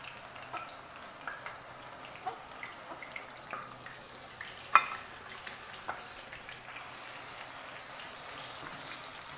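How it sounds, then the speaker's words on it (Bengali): Marinated chicken pieces fry in a pan for chicken vegetable noodles, a faint steady sizzle with scattered soft pops and clicks, the hiss growing slightly louder and brighter toward the end; no talking. "চিকেনগুলো আমরা একদম ব্রাউন করে ভাজা পর্যন্ত অপেক্ষা করব।"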